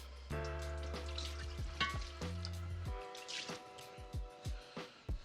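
Water runs and splashes over an old cast iron pan during rinsing, with steady flow punctuated by drips and squishy splashes, close by and fairly quiet, no talking.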